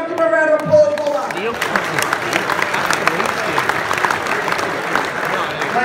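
Auction room crowd breaking into applause after a sale, a dense wash of clapping that builds and holds steady, beginning over the tail of the auctioneer's voice.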